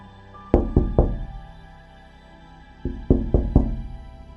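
Two bursts of knocking on a door as an audio-drama effect: three firm raps, a pause of about two seconds, then four more raps, close and loud against a quiet background.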